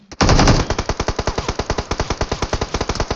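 Rapid automatic gunfire in PUBG Mobile, a sustained burst followed by a steady stream of evenly spaced loud shots with no talking.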